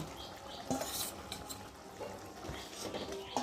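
Fried prawns being stirred into a thick, reduced curry in a pot, faint scraping and clinking of a spoon against metal with soft wet sizzle, quiet and close.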